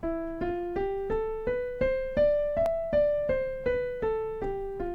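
A clean plucked or picked melodic line rises step by step through an E Phrygian scale, about a dozen evenly spaced notes, then steps back down, each note decaying before the next.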